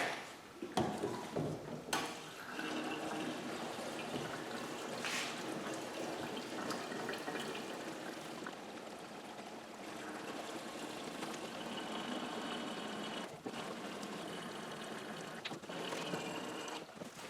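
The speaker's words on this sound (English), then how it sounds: "Fills nicely from a jerry can." Gasoline pours steadily from a jerry can through a new fuel filler into a rear-mounted fuel tank, a continuous near liquid gush and gurgle running the whole time with no talk.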